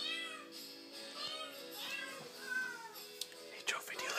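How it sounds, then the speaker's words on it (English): Real cats meow over a Silent Night tune with a singing, musical background, repeated mewing calls woven through the melody, moderately faint overall. "These are real cats, they're gonna get you."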